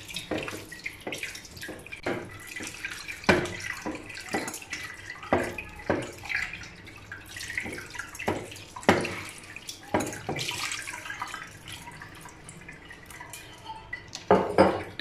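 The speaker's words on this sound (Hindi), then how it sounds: "अब हम इसमें साफ पानी डालेंगे ताकि जो खटास है वो दूर हो जाए। पानी से धोएंगे इसे।" Drained paneer for rasgulla is rinsed with clean water: a close kitchen mix of splashing and trickling water with repeated sharp clinks of a pot or utensils, with no talking.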